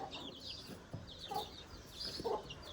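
Hens cluck softly in short, scattered bursts, faint and a little distant, with no talking.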